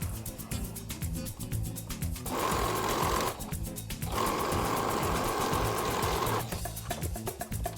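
A sewing machine stitches along the edges of face mask fabric in close, steady, rapid runs. Two longer stretches of stitching are separated by brief pauses, with no talking.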